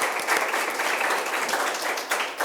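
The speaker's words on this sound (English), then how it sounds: "So a huge round of applause for y'all." Audience applause at an inter-school debate competition, a steady wash of many hands clapping at moderate level for a couple of seconds with faint voices underneath.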